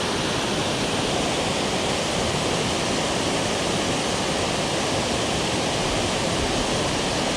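Broadband roar of a waterfall throwing spray near the Stone Store in Kerikeri, New Zealand, a loud, dense, unbroken rush of falling water that stays constant and close throughout.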